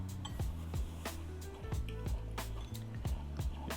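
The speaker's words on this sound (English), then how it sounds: "Got the breakfast sounds" Breakfast ambience played through a Boom 3i speaker: a steady, faint loop of clinking dishes, soft thuds and kitchen clatter with a repeating rhythmic pattern and no voices.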